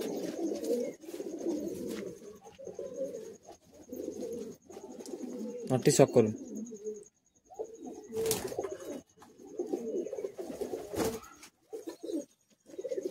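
Madrasi high-flying pigeons cooing in a home loft in Kolkata, soft repeated coos in bursts with brief pauses, mixed with close conversation and occasional sharp knocks or flutters.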